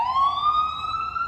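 A passing ambulance siren outdoors, a loud rising electronic wail that sweeps steadily upward in pitch over just over a second, with no voices.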